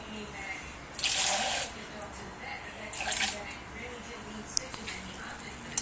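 A small splash of water is poured into a soy sauce marinade in a home kitchen, a soft trickling pour heard in short bursts under light background noise.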